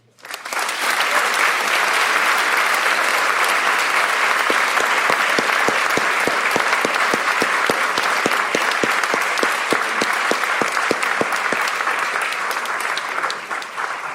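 An audience at an event marking the 70th anniversary of Brown v. Board gives sustained, loud, dense applause to welcome Congressman Jim Clyburn to the podium, holding steady before tapering off slightly at the end.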